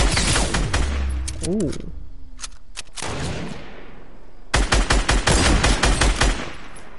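Fortnite gunfire crackles in rapid bursts, a short volley early, then a few sharp isolated shots, then a long dense string of rapid fire near the end, with a brief exclamation from a player.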